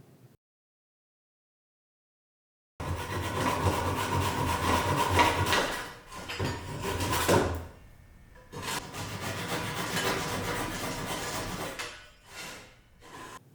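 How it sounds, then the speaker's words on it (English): A Japanese pull saw trims excess from glued wooden splines, making loud, sustained rasping strokes in long bursts separated by brief pauses, with no talking. "I used my Japanese pull saw to cut off any extra"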